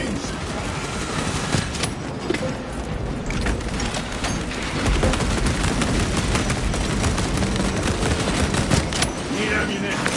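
Artillery bombardment in Warhammer 40,000: Space Marine 2: a dense, unbroken wall of battle noise with constant crackling blasts and rumble, growing slightly louder partway through.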